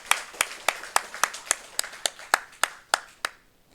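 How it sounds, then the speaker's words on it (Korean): A church congregation claps during a Sunday morning service, about a dozen sharp, evenly spaced claps in a steady rhythm that fade out at the end. "박수로 축복하겠습니다"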